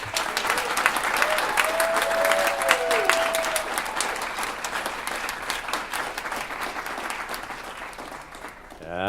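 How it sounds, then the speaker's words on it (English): Audience applause fills the room at a gamification debate, steady dense clapping with a few whoops, sustained for several seconds and tapering slightly toward the end. "Applause for Steve, please"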